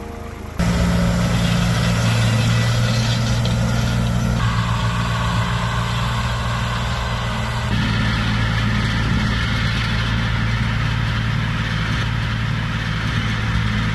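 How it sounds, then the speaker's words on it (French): A tractor fitted for mowing runs steadily while clearing an overgrown plot at a fire-damaged house under renovation, its engine starting after a brief quiet and then droning continuously at close range, with no talking. "un de ses potes qui a un tracteur équipé pour faucher"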